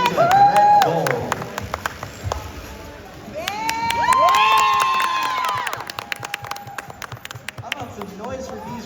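Crowd at a youth robotics league tournament cheers and shouts loudly, with children's high-pitched screams and whistles swelling, dipping and then rising again, and scattered clapping beneath a commentator's voice.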